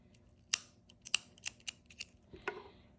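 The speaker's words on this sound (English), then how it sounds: "And then you cut your yarn." Scissors cut yarn, giving a few quiet, crisp snips close by. They come as separate clicks with soft handling noise between them in an otherwise quiet room.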